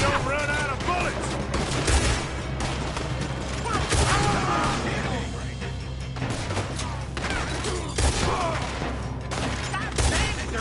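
Gunfire in the video game Red Dead Redemption 2 during a battle, loud and continuous volleys with heavy booming shots at regular intervals, mixed with shouting voices and talking throughout.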